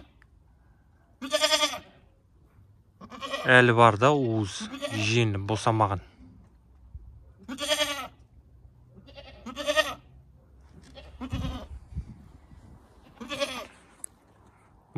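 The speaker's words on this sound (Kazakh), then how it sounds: "Маңырай бердің ғой" Goat kids bleat in repeated short, wavering calls, some overlapping in a quick burst, close by, with a person speaking briefly between them.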